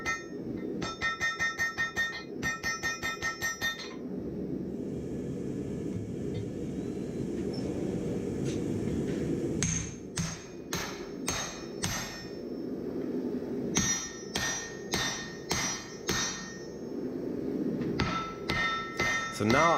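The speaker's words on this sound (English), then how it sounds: "So now I'm forging the part that's closest to the eye" A hammer forges a Damascus steel axe near the eye, with bursts of rapid ringing metal blows separated by pauses filled with a steady low roar from the forge.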